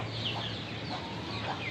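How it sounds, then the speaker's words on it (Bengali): Free-range desi chickens pecking at sand in a sunny yard give soft, close clucks in an unbroken, gently murmuring stream, with a few higher calls rising above the flock. "এই যে আমার বাকি মুরগিগুলো, ওই যে কালোমণি, তারপর লাল মোরগটা"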